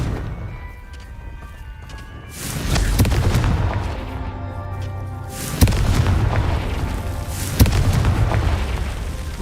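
Confringo blasting spells burst in Hogwarts Legacy as loud, deep explosions, three booming blasts each followed by a long rumbling roar.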